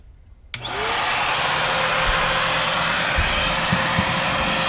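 After a quiet start, a vacuum cleaner powered through a newly installed inverter in a Winnebago Fuse 23T motorhome switches on abruptly and runs loudly with a steady whooshing roar and a faint whine.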